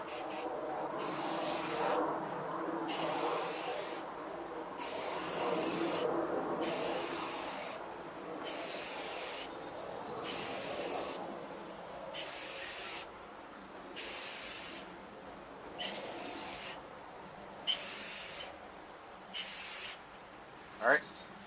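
Spray paint hisses onto a car headlight in a series of light coats, with roughly a dozen bursts of steady aerosol spray broken by brief pauses, loud and close, with a few faint clicks near the end.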